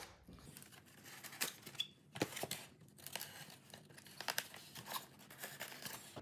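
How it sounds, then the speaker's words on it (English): Packing tape on the cardboard box of an E-Flite F-16 64mm EDF jet model is cut and torn open, with a series of uneven crackling rips and crinkles at close range and no talk. "I'm gonna go ahead here and just start cutting the tape on this box."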